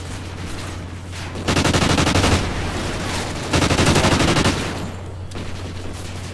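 Bursts of rapid automatic gunfire from an online multiplayer shooter match, two sustained volleys of loud, dense shots with quieter stretches of game ambience before, between and after.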